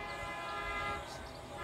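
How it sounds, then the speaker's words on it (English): Train rolling along nearby railroad tracks, a steady continuous rumble with a faint horn-like tone, heard alone without talk. "Don't mind the train in the background."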